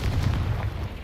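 Confringo fire spell blast in the video game Hogwarts Legacy, heard as a dense, low booming rumble that stays loud for the whole short moment without a clear single onset.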